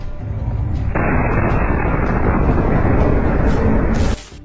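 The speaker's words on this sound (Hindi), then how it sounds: "इस बुलडोजर में भी जोरदार तरीके से एक धमाका होता है" An explosion hits a bulldozer in Rafah, Gaza: a sustained, loud roaring blast of broadband noise lasting several seconds, then cutting off abruptly into quieter rumble.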